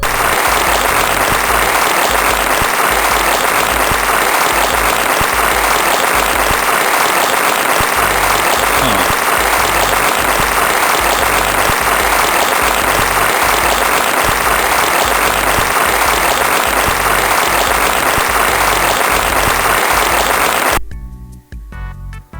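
A recorded applause sound effect plays from a sequencer: dense, loud clapping with crowd texture that holds steady for about twenty seconds and then stops abruptly.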